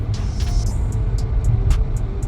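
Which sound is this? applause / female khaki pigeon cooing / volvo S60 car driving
volvo S60 car driving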